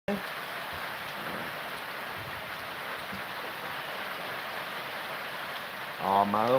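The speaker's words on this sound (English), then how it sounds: "Ah, nice warm summer rain." Light warm summer rain falls in a steady, soft hiss on an island, even and continuous, with a brief burst of nearby sound at the end.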